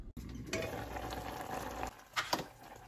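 Sliced onions simmer in a covered pot for gyudon, a steady bubbling and low sizzle with a few louder pops and clinks near the end, close and continuous.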